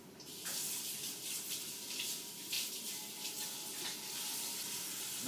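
Fresh basil being washed and scrubbed under a running tap, a steady broadband rush of water with splashy bursts throughout, fairly close and alone with no talk.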